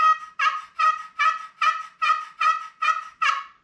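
A wooden Ben Lee turkey box call scrapes out eight evenly spaced raspy yelps imitating a hen, loud and close with silence between them.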